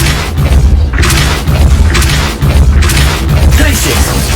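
Loud, dense magical blast from the Depulso spell in the Hogwarts Legacy video game, a sustained booming burst with crackling pops and rumble filling the whole moment, close and forceful.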